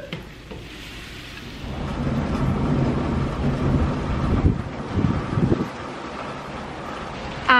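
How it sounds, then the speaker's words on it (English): Summer thunderstorm with rain beating against a house: a steady broadband wash of rain, swelling louder in the middle with rumbling low gusts, then easing back, heard alone without any talk. "You can hear the rain hitting the house."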